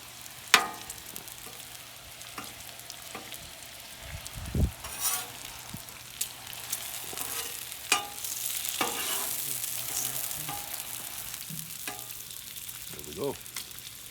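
Bacon frying on a Blackstone 28-inch griddle, a steady close sizzle with spatula scrapes and a few sharp clinks, and a faint low hum underneath.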